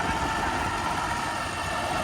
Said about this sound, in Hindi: बिल्कुल नॉर्मल ट्रैक्टर चल रहा है, दूसरे के लो में चल रहा है।